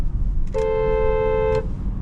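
A single car horn blast from a 2022 Mercedes-Benz GLC 300, lasting about a second, loud and close, over steady low traffic rumble.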